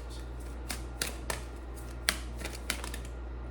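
Cards from an oracle deck shuffle and snap in a handful of sharp, separate flicks and slaps, close and fairly quiet over a low steady hum.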